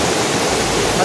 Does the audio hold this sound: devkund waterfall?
yes